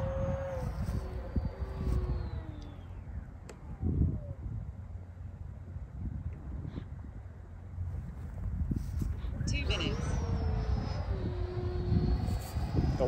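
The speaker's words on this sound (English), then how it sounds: "We're gonna go ahead and take her up and do a flat spin, or maybe a Cobra to a flat spin." Freewing F-22 90mm electric ducted-fan RC jet flying aerobatics outdoors, a continuous rushing whine that rises and falls in pitch as the model passes and climbs, carried over wind.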